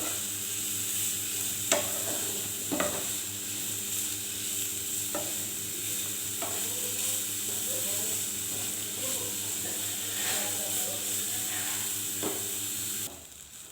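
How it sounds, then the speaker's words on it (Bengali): Grated papaya fries in a pan for halwa, a soft steady sizzle with occasional stirring scrapes, under a faint constant background hum. "এখন দিয়ে দিব গ্রেট করে রাখা পেঁপে, একটু লাল করে ভেজে নেব, লাল লাল করে।"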